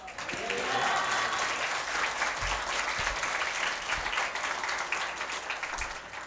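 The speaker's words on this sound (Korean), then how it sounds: "목사님 나오실 때 환영의 박수로 할렐루야 하면서 박수하겠습니다" Congregation in a church breaks into sustained, loud applause welcoming a pastor to the pulpit at a dedication service, a dense wash of clapping from many hands lasting several seconds.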